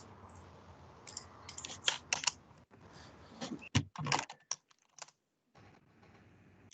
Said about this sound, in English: I don't want to have to type all that again.